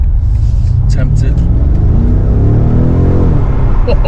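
A BMW M5 Competition with a 4.4 litre V8 pulls hard from inside the cabin, a deep engine note climbing steadily in pitch over about four seconds, loud and continuous.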